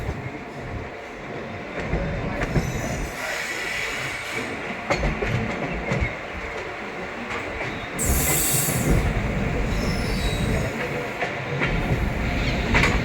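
A Prayagraj–Delhi special train running via Chitrakoot slows down, its heavy rolling rumble and wagon rattle filling the scene, with a sharp burst of wheel squeal partway through.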